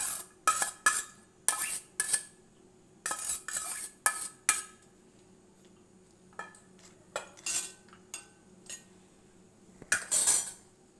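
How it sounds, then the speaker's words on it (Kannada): A metal spoon spreading rice across a pot for a layered veg biryani, with a series of close scraping clinks and taps against the pot in short irregular bursts. "ಈಗ ಲಾಸ್ಟಲ್ಲಿ ಈ ರೈಸ್ ಎಲ್ಲ ಹರಡ್ಬಿಡೋಣ."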